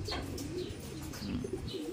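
Racing pigeons coo softly and repeatedly amid scattered chirps, a low bubbling murmur of birds close by with no talking.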